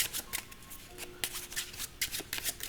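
Playing cards being shuffled during a card trick, rapid riffling bursts of crisp flutter repeating in quick succession, close and clear with no talk.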